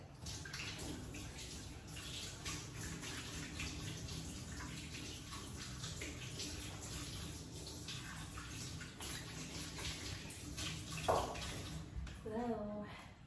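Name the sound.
washing buttery hands under running tap water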